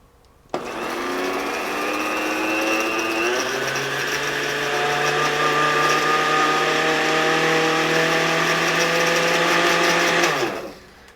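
Blender whirring through free-range eggs, switched on with a sharp start and running loud and steady for about ten seconds, its pitch shifting slightly before it winds down and stops.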